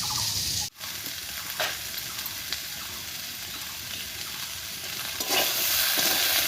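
Spices with salt and turmeric fry and get stirred in a hot pan, giving a loud, steady sizzle with scraping strokes throughout and one short dip early on.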